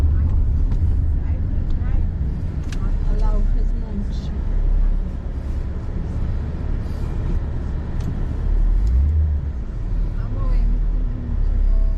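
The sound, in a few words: car driving from a residence toward a state highway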